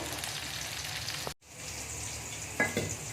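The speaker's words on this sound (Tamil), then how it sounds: "நல்லா சின்ன வெங்காயம் பொன்னிறமாக நல்லா வரணும்" Small onions frying in hot oil for a Tamil bitter gourd tamarind curry, a steady close sizzle that briefly cuts out and then resumes, with a few light stirring clicks near the end.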